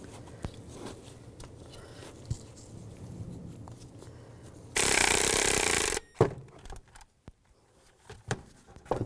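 Bolts are tightened on the idler pulley of a 2005-15 Nissan Xterra, with one steady, loud burst of tool noise lasting about a second amid scattered metallic clicks and handling sounds.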